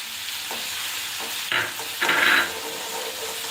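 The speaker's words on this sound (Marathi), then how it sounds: "आपल्याला छानपैकी व्यवस्थित भाजून घ्यायची वाटलेली हिरवी मिरची" Ground green chili frying in a pan, a steady sizzle with stirring scrapes and two louder bursts of hissing partway through, close and alone.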